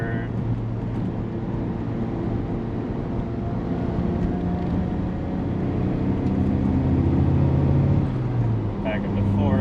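Chrysler Conquest TSi engine droning steadily inside the car on a bumpy uphill road, the pitch shifting as it downshifts to third gear around a bend, a continuous close hum filling the whole stretch.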